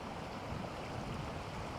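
Floodwater rushes strongly past, a dense, unbroken roar that holds steady and loud throughout.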